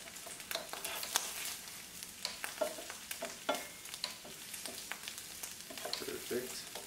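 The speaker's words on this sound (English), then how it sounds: "I'm going to give these eggs a flip" Eggs frying in a pan for a bacon, egg and cheese bagel: a soft, steady sizzle with scattered pops and light taps of a spatula, fairly quiet and close, no voices.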